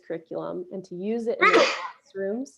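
A single loud, sharp sneeze breaks in between spans of a person talking, standing out as a close, burst-like exhalation.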